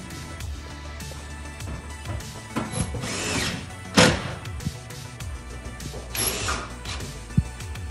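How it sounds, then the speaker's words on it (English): A power drill drives screws into the mounting of an Amana over-the-range microwave hood, model AMV2307PFW, with two short whirring bursts and clicks among mechanical rattling, close by. "I always start the screw by hand and then I use the drill"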